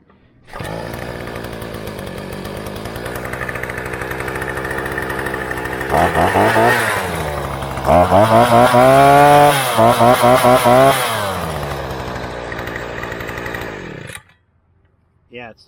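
A VEVOR 43cc 2-stroke tiller cultivator engine starts right away and runs loud and close, with its buzzing whine rising and falling as the throttle is revved before it cuts off.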